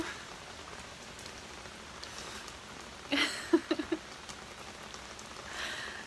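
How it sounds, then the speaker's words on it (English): Rain falling steadily with a soft, constant patter in Bali, fairly quiet and distant, with a few brief nearby taps and knocks in the middle. "the weather has been just pouring down"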